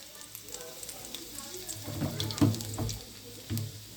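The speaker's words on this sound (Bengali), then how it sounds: "তেলের ভিতরে রসুন কুচি দিয়ে দিলাম" Chopped garlic sizzles in hot mustard and soybean oil in a pan, a faint steady frying hiss with a few brighter crackles and stirring clatters.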